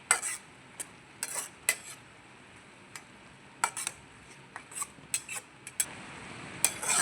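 A spoon stirs semiya kesari in a pan, giving scattered sharp clinks and light scrapes against the metal at an uneven pace, fairly close and moderately quiet with a faint background hiss.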